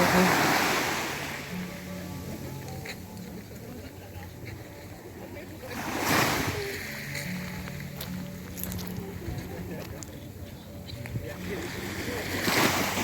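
Black Sea waves rolling ashore at Odesa, a steady wash of surf with a louder surge midway, under a voice talking near the microphone.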